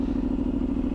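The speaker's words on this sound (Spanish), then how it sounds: "Es un motor bicilíndrico y van a escucharla un poco más duro" Benelli 752 twin-cylinder motorcycle with a customized exhaust, idling close by with a loud, steady, throbbing rumble and no talk.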